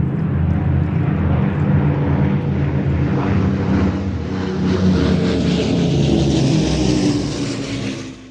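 A Spitfire flies past at an air show, a loud, sustained engine drone that swells as it nears and eases off toward the end, with no talking over it.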